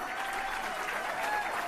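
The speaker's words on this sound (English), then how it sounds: "give them a round of applause." Applause from a crowd at a political party breakfast event, a dense, even roar of many hands clapping that holds steady throughout the brief moment with no speech.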